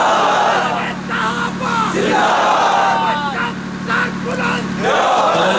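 A large crowd at a Deobandi religious rally in Sahiwal chants slogans in loud, rhythmic, repeated bursts of massed voices, with an amplified speaker's voice mixed in.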